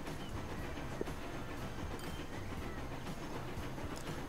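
IC 2000 locomotive in Transport Fever runs steadily with a continuous broadband rail rumble and faint clickety-clack, close and even throughout, with no talk.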